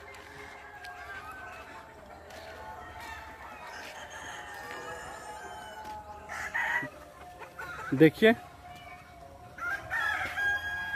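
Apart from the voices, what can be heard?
country chickens and rooster crowing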